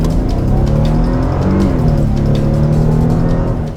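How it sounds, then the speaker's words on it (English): A supercharged 2002 Mercedes AMG car engine runs loud and close, a steady throaty drone with shifting pitch as it revs slightly, no voices over it. "2002 Mercedes AMG, a supercharged."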